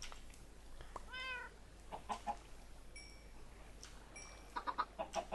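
A cat in Minecraft meows once near the start, followed by a run of clucking from chickens, short soft calls scattered over a quiet background with no talk.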